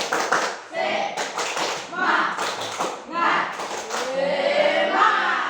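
A classroom group performs a rhythmic clap-along spirit cheer, sharp claps in patterned bursts mixed with children's voices chanting and calling throughout.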